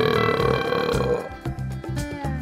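A child-voiced cartoon burp from a pig character in a kids' toy play scene, one long drawn-out croaking belch that breaks into stuttering pulses, loud and close.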